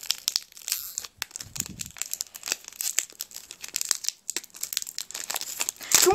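Foil booster pack wrappers from a trading card set, sixteen holographic cards among them, being crinkled and ripped open nearby in a continuous busy stream of crackles and tears, with brief soft pauses.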